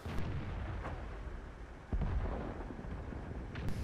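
A tank shell from a World of Tanks ISU-152 battle strikes armor with a heavy, booming impact near the middle, amid rumbling engine and distant gunfire.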